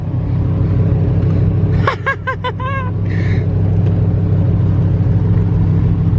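A Lamborghini engine runs with a loud, steady rumble that fills the whole stretch, holding an even idle-like drone with a short chirping sound riding over it near the middle.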